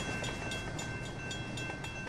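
A train rolling along the track in the Rolling Line VR train-sim game, a steady loud rumble with faint rhythmic clicks and a thin high whine, running alone without talk.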